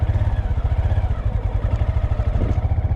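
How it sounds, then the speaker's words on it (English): Motorcycle engine on a street, throttle opened slightly from a stop, giving a loud, steady low chugging pulse close to the rider throughout. "Stop, foot down, give it a little bit of throttle gas."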